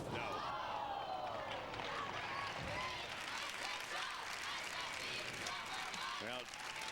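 Sustained applause and cheering from a crowd giving a standing ovation at a women's college bowling championship, dense and continuous, with scattered claps and thuds in the mix.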